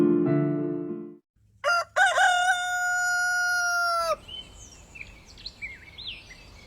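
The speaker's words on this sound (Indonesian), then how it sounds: "pagi seperti biasa, ayam berkokok" A rooster crows once in the morning at a village house, a loud, drawn-out call close by that follows a brief earlier tone and is followed by faint chirping birds.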